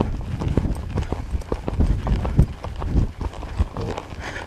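Horse hooves pounding dirt at a gallop during barrel racing training, a rapid, close, rhythmic clip-clop drumming throughout with brief faint voice in the background.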